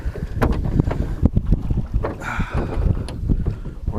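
Small boat rowed across a flooded lake, with uneven knocks and splashes of oars in water over wind buffeting the microphone, close and moderately loud, no talking.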